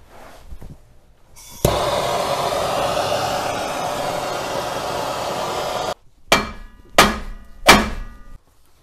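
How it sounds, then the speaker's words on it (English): A long steady rushing noise for several seconds, then three sharp, loud metallic hammer blows struck close by at an even pace on the suspension of a BMW E24 635CSi. "I needed a different hammer."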